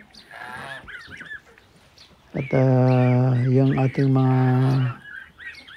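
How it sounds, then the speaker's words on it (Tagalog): Young hens call loudly in sustained, harmonic bursts close by, with a person speaking before and after the calls. "So yan yung mga dumalagang manok."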